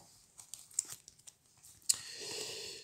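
Playing cards drawn into a five-card hand during a solo Hero Realms card game: soft papery slides and crinkles, one sharp swish, then a sustained close rustle.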